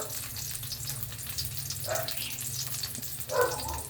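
Garlic sautéing in a pan with a steady, close frying sizzle, a couple of brief clinks of a utensil rising over the hiss.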